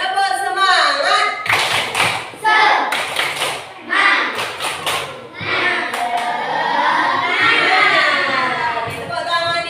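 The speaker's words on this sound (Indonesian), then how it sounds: "Tepuk semangat." Fourth graders in an elementary classroom do the 'semangat' spirit clap, a string of quick, crisp group claps in bursts that alternate with loud chanted cheering from the children.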